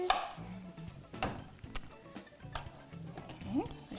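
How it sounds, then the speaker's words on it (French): A knife cuts around the pit of a peach on a cutting board, making soft, irregular taps and thuds with light scraping, close and fairly quiet. "Là, je coupe autour du noyau ici."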